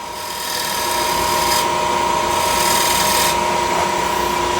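Woodturning tool cutting a bead on a spinning lathe workpiece, a steady continuous rasping, scraping cut with a constant motor hum underneath, close and fairly loud, with no talking.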